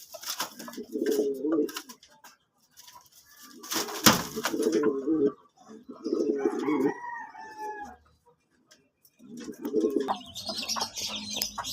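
Pigeons cooing: low, rolling coos in several bursts, with a few sharper bird calls and some clatter in between, fairly close.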